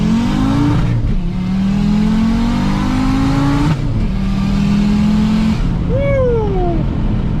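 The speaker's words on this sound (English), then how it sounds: "No lift shifting like a boss." An Audi UrS6 accelerating hard through the gears with no-lift shifts, its engine note climbing loud and close, then dropping sharply at each quick shift before climbing again.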